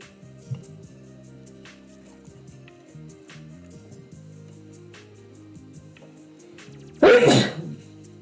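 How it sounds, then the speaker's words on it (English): A single loud, sudden human sneeze close to the microphone near the end, following several seconds of quiet background music and faint rustling. "Mute before that sneeze."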